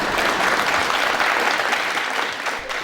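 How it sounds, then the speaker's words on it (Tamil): Studio audience applause during a Tamil-language courtroom-style TV talk show, a dense, steady wash of many hands clapping that holds at full strength and eases slightly near the end, with no talking over it. "இப்போ அதிகமா கைத்தட்டல் வரப்போகுது"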